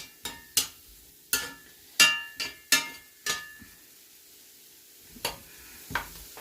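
Fresh chopped garlic fries with ratatouille vegetables in a pan, a low hiss beneath a series of sharp, close utensil clinks and scrapes that come in an uneven rhythm, with no talk.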